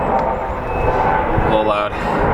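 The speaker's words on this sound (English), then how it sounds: "There's a helicopter flying over my house right now." Helicopter flying over a house, a loud, steady rumble of engine and rotor noise that fills the whole moment.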